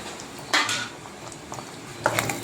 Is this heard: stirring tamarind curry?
yes